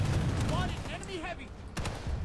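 An anti-vehicle turret in Planetside 2 fires heavy, booming rounds amid battlefield rumble and distant gunfire, with a player's voice over the noise.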